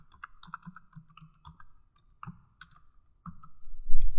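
Crisp computer mouse clicks and some light keyboard taps sound while logging into a specimen-tracking application, in irregular bursts with quiet gaps and a soft thump near the end.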